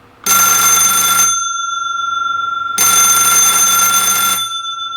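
An old school Buzz-A-Bell doorbell rings loudly and close in two long bursts, a harsh buzzing ring with a short gap between them and a faint lingering hum throughout.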